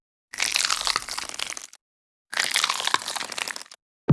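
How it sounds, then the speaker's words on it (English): Two separate bursts of bone-crunching impacts layered with crackling magic effects from the Mortal Kombat 11 fighting game, each a dense, bright crunch lasting over a second with silence between, and a short low thud at the end. "I'm also compressing the magic and bone crunching sounds together"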